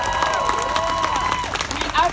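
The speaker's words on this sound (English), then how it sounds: "Clap for Shay right there." A crowd at a trans rights protest on Downing Street, London, applauds a director, with brief clapping and cheering mixed with surrounding chatter and a voice over it.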